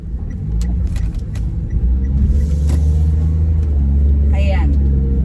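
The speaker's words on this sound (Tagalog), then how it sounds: "Ito talaga dito, no? Kabilis ng mga sasakyan." Fast cars rushing along a road in Japan, a steady loud rumble of passing traffic with whooshes of vehicles going by, while people talk nearby.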